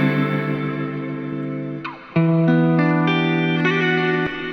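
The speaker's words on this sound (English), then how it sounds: "the space is basically a reverb" A sustained synth tone through the RC-20 Retro Color plugin's reverb, with a long reverberant tail, smeared and echoing, shifting pitch midway and then ringing on steadily.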